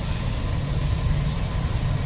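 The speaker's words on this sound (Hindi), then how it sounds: "देख लो वैगनार का इंजन" Maruti Wagon R car engine idling at a steady low rumble, close by and continuous after new shock absorbers were fitted, with no talk over it.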